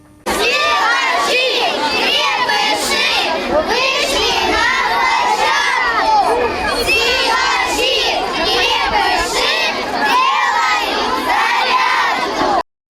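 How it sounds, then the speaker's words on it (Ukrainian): Schoolchildren at a school sports day in a park chant cheers together, a loud, continuous crowd of young voices shouting rhythmic calls in unison for about twelve seconds before cutting off abruptly. "Такими кричалками сьогодні учасники спартакіади розпочинали змагання."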